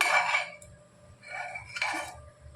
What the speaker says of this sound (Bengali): এবার ঢাকাটা দিয়ে জাস্ট 3টে সিটি দিয়ে নেব